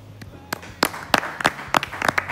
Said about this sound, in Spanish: Un aplauso para Crédito Uruguayo